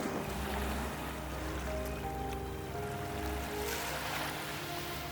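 Sea waves wash against the shore on a hot day at an empty beach beside a shop, a continuous broad rushing wash with some wind noise and gentle swells.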